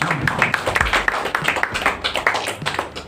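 A small group claps in quick, uneven bursts, sharp individual hand claps close by and slightly scattered, thinning toward the end.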